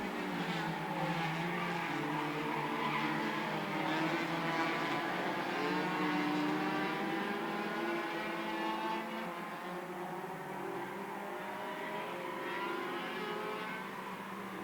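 Race cars roar around a track at an All American Racing event, a steady layered engine drone from several cars heard at a moderate distance without pause.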